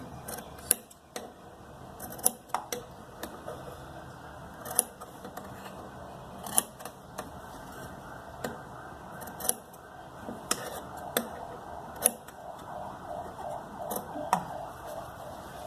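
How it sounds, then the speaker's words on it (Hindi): Scissors snip through cloth while shaping a salwar hem (mohri) design, giving a string of sharp, close cuts at irregular intervals with soft handling rustle between them. "बीच में एक एक कट लगाएंगे।"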